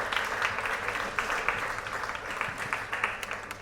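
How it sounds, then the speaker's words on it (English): Audience applause for a debate team at a live debate show, a crowd clapping steadily at moderate volume with some individual claps standing out, continuing the whole time. "Round of applause for Murtaza and Long."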